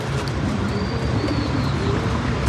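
Soft, low coos repeat steadily among a flock of pet pigeons, with rustling and faint chirps in the background.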